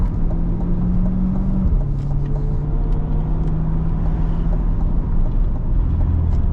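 A Chevrolet Corvette C8 Stingray coupe attempts a launch-control start with no traction: a steady, loud engine drone and road rumble, its pitched tone dipping sharply about a third of the way in before holding steady again.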